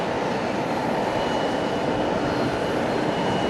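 Fuji Dream Airlines plane at Fukuoka Airport, heard as a continuous broadband engine roar, steady and moderately loud, with no speech.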